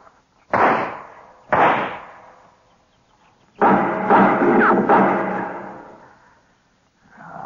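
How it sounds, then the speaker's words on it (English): Gunshots ring out in a Western radio drama, two sharp close reports about a second apart, then a third shot with a long echoing tail, another starting at the very end. "I'll put a couple of shots in there."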